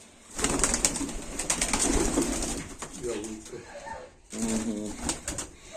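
Baku fighting pigeons coo in soft repeated phrases close by, mixed in with people chatting nearby.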